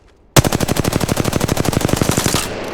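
A rapid burst of automatic gunfire in the video game Apex Legends starts abruptly after a short silence and runs as about twenty evenly spaced loud shots before it stops.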